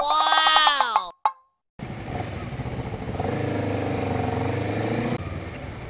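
A motorcycle passes close by on a road, its engine rising and falling against a steady background of traffic rumble.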